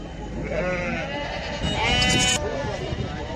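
Mother and kid goats for sale at the Maştağa sheep, goat and cattle market bleat in a wavering, nasal cry that rises to a strong, high burst before stopping short, against steady market chatter.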